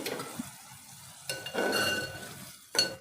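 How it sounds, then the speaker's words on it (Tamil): Vegetables for veg dum biryani bubble and simmer in a pot, a soft steady boiling hiss broken by a couple of light metallic clinks. "இப்போ இதை நான் ஓப்பன் பண்ணிக்கிறேன் பாருங்கள் நல்லா கொதிக்குது"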